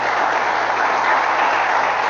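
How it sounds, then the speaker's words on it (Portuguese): A church congregation at a Pentecostal service claps together in steady, dense applause, a continuous wash of hands filling the room for a couple of seconds. "Vamos aplaudir ao nosso Deus"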